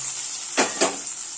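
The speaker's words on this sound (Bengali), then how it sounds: "দিয়ে আমি মশলাটাকে খুব ভালো করে কষাবো যতক্ষণ না কাঁচা গন্ধটা চলে যাচ্ছে।" Ginger, cumin and chilli paste fries in oil with a faint steady hiss, and two quick utensil scrapes against the pan come close together.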